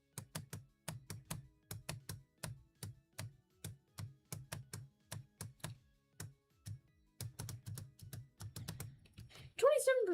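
Someone playing a computer game clicks the controls in rapid, uneven bursts of sharp taps. The clicks are close, fairly quiet and go on for several seconds, with a brief louder shuffle at the end.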